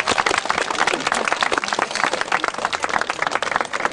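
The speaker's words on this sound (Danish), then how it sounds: "Vi klapper lige af jer selv her" A room of people, children among them, clapping for themselves at a playground event, dense steady applause running the whole time without pause, loud and close.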